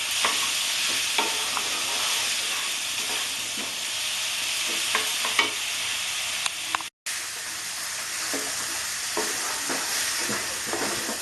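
A spatula stirs and mashes a soft tomato pav bhaji mixture in a sizzling pan, giving repeated scraping and squelching strokes over a steady hiss; it is close and continuous, with a brief dropout partway through.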